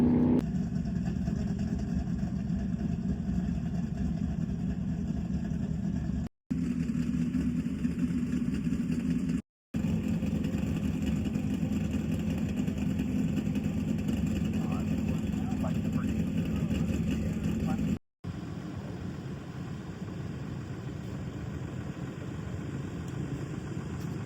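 A land speed racing motorcycle at El Mirage dry lake, its steady engine drone running continuously for a long pass with a few brief cuts, moderately loud and fairly distant.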